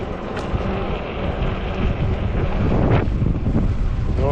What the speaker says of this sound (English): Oh, there's that wind.